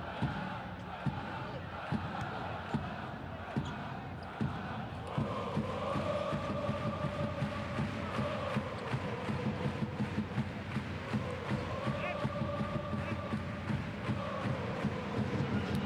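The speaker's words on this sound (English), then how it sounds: "Crowd are loving this performance from their team." Basketball arena crowd at a Virtus Bologna versus Filou Oostende game roaring and cheering for the home team, a dense sustained swell of voices with rhythmic chanting and a commentator speaking over it.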